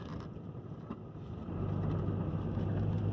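A 2012 Ram diesel engine with a repaired variable-geometry turbo idling steadily at about 1,100 RPM, a low continuous rumble that deepens and firms up halfway through, with no talking.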